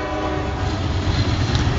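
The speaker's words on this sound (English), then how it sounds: "there's a train going by" A train passes close by with its horn sounding, a loud, steady rumble of rail cars and a sustained horn tone running through the whole stretch with no pauses.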